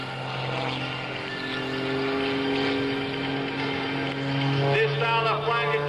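Sean Tucker's aerobatic airplane flying an outside eight-sided loop at the 2002 NAS Oceana airshow; a sustained propeller engine drone with shifting pitch, distant and continuous, rising and changing tone near the end.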